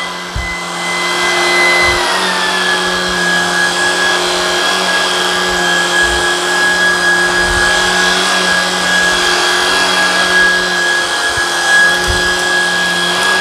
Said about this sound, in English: One of those situations where the vacuum itself is quiet, but the power head is loud.